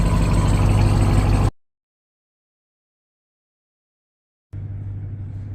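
A Ram TRX pickup truck engine idles with a steady, loud low rumble, cutting out abruptly after a moment of silence and then resuming at similar level.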